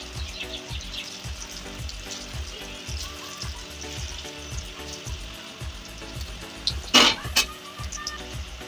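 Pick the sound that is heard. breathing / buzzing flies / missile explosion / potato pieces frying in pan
potato pieces frying in pan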